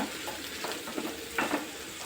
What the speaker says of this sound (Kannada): ಮೂರು ಈರುಳ್ಳಿ ಚೆನ್ನಾಗಿ ಫ್ರೈ ಆಗಬೇಕು